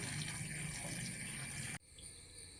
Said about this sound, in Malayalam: ഒരു 2-3 സ്പൂൺ മഞ്ഞൾപ്പൊടി കൂണിനകത്തിട്ട് കുറച്ച് നേരം വെള്ളം ഒഴിച്ചിടാം.